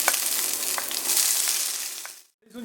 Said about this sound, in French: Dans la poêle chaude, j'ai mis un petit peu d'huile d'olive. Maintenant, je vais commencer par cuire donc les oignons verts.